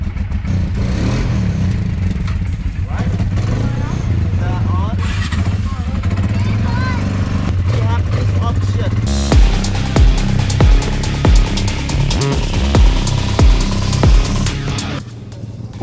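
A quad bike engine in Bali fires up and idles with a steady low drone, then breaks into a loud, choppy run of sharp revving bursts, heard close with voices talking over the first half.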